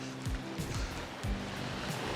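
Waves wash onto a beach with a steady low rumble and a few surging swells, heard near and moderately loud, though wind or handling noise blurs them.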